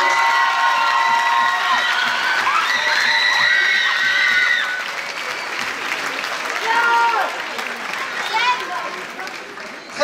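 A theatre audience at a Paris film premiere at Le Grand Rex claps and cheers for the producer, with loud whoops and high shouts riding over dense applause that eases slightly midway before swelling again.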